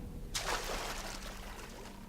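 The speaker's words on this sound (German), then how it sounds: "Kann ich irgendwie ins Wasser tauchen?" A game character plunging into water in Risen 3, a sudden splash and pour-like rush that trails off into a fading trickle over a low steady hum, with no talking.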